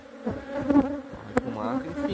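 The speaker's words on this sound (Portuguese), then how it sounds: "Formando uma bola de abelha nas costas do Davos" A swarm of Africanized honey bees, highly defensive and balled up on a worker's back, drones in a steady, close buzz with faint rising whines, while a voice speaks briefly over it.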